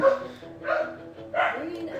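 Dogs barking indoors in reaction to people at the front door, three separate bursts of barking and yipping spaced about half a second apart, fairly close and moderately loud.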